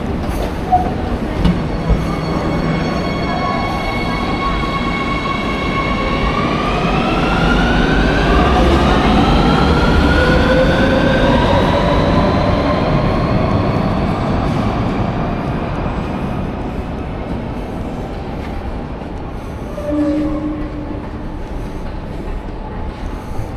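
Madrid metro train running loud and close, a rumbling roar with rising whine of the motors as it accelerates, then fading slightly; a faint voice speaks briefly.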